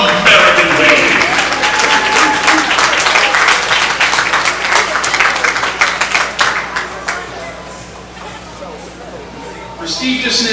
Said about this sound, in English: have a huge round of applause for the Power Showcase 13U American League